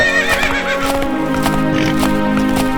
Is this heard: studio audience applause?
no